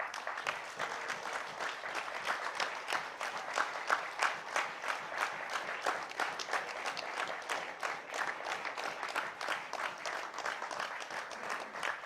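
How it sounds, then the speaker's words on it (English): Rousing audience applause at a stage event, a sustained, even roar of many hands clapping with crisp individual claps throughout, fairly distant and uninterrupted by speech. "Please put your hands together amidst your rousing applause"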